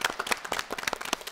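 An audience at a school quiz show claps for its English teachers, a quick burst of fairly close, distinct handclaps with uneven rhythm.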